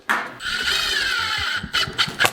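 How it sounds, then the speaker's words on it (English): A power drill bores into a desk tabletop laid flat on the floor, running as a steady, close, loud whine for over a second, then a few short bursts as the trigger is pulsed. "It'll be easier to drill it now while the table is on the floor."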